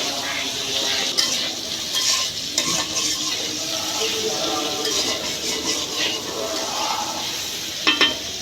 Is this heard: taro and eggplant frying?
yes